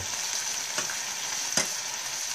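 Vegetables for a vegan Vizcaína sauce sizzle gently in a pan, a soft continuous frying hiss with a couple of brief stirring clicks, close and alone.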